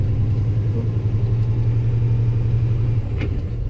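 Semi truck with a 13-speed transmission pulling away in first gear on a right-hand turn, a steady loud low diesel rumble holding throughout, with a brief shift in tone near the end.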